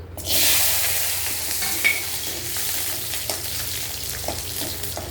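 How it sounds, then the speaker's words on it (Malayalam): Small shallots sautéing in oil for a Kerala garlic tamarind curry, a loud hiss as they hit the pan, then an even sizzle with a few light stirring taps, no voices. "ഇനി അതേ എണ്ണയിൽ നമ്മൾ ചെറിയ ഉള്ളിയാണ് ഇനി വഴറ്റുന്നത്."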